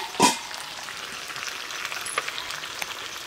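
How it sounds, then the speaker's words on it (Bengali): Chicken pieces for biryani frying in a pan with ginger and garlic give a steady, soft sizzle throughout. A sharp clatter sounds near the start and a few faint ticks come later. "তো আদা রসুন দিয়ে মাংসটা আমি প্রায় 10 মিনিট মতো কষিয়ে নিয়েছি, এবার মশলা দিয়ে ভালো করে আর একটু কষিয়ে নিয়েছি।"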